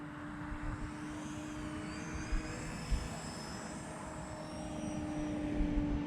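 An Avios C-130 radio-controlled model airplane makes a low pass from right to left, its electric motors and propellers giving a steady, moderately loud whine and drone that holds throughout with no speech.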